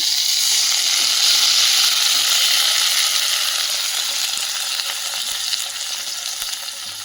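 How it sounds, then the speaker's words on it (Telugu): Chopped tomatoes hit a pan of frying green chillies for a tomato chutney, setting off a loud, close, continuous hissing sizzle that slowly eases as the pan settles, with faint stirring scrapes underneath. "ఇప్పుడు పచ్చిమిర్చి వేగినాయి కదా ఇప్పుడు టమాటా వేస్తున్నాం"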